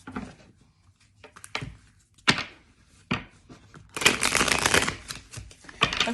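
A deck of hoodoo divination cards being shuffled by hand, with scattered riffles and taps early on, then a dense, loud burst of card flutter near the end.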